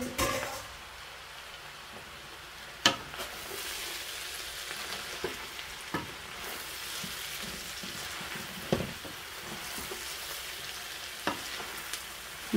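Eggplant fries in a pan with a steady close sizzle and crackle, punctuated every few seconds by louder scrapes and knocks of stirring.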